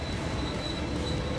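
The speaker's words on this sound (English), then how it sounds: "Just look at how effortlessly the train passes through the blade" Train plowing through a wind turbine blade carried on a truck at a level crossing, heard as a loud continuous rail roar with a high squealing tone riding over dense rattling noise, close and unbroken.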